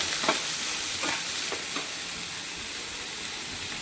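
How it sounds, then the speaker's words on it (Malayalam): Chopped onions and curry leaves sauté in a pan for Kerala-style pork thoran, giving a steady close sizzle. A few spoon-stirring scrapes land early on, and no one speaks. "നേരത്തെ നമ്മൾ അരിഞ്ഞു വെച്ച സവാളയും കൂടെ ആഡ് ചെയ്ത് ഒന്ന് നല്ലപോലെ വഴറ്റിയെടുക്കാം"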